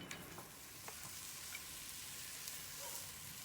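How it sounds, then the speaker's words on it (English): An onion sizzling on a backyard barbecue grill, a steady, soft crackle with occasional small pops, heard alone without talk. "Let's get our onion onto the barbie, let it do its thing."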